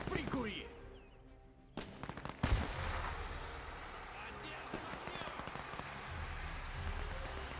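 Men of War II battle sounds: a sharp high-explosive grenade blast bursts out near the start, followed by a steady crackle of distant small-arms gunfire and rumbling combat noise throughout.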